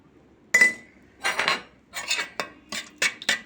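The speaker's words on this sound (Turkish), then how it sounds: "Çırpıyorum" Eggs with cumin, thyme and chili flakes are whisked in a bowl, the utensil clinking against its sides in short, irregular bursts of rapid tapping, close and clear with no talking.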